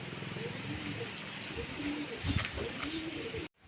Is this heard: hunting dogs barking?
no